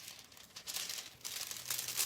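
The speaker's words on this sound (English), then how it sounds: "Now you can crumple up your foils if you want." Dollar store foil crumpled by hand, a close, crisp crinkling that comes in uneven bursts and grows busier toward the end, with no voices.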